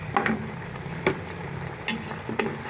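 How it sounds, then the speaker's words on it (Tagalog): A spoon stirs chicken tinola with chayote in a pot, giving a few distinct scraping clinks over a soft sizzle. "Haluin lang natin siya kaunti."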